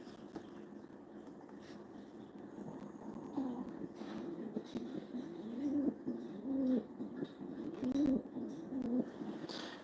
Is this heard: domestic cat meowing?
no